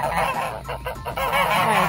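A goose honks repeatedly at close range, harsh nasal calls running together in a noisy burst with no voices present.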